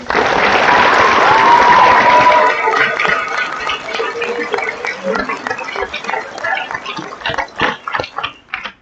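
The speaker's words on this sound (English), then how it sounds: "please give all of the 2018 State Leadership Conference staff a round of applause" Applause for the staff at the 2018 State Leadership Conference closing assembly: a loud, dense burst of clapping with a tonal squeal early on, thinning into scattered claps and crowd noise after about three seconds.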